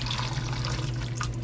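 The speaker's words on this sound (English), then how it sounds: "And just pour it all through that strainer." Hot pork cooking juice poured from a pot through a strainer, a steady close splashing stream of liquid running without pause.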